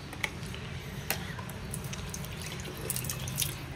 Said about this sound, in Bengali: একটু জল দিয়ে দিতে হবে গেটে।